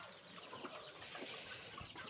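A mother hen clucks softly while feeding her chicks, faint low clucks heard from a distance over a quiet background hiss.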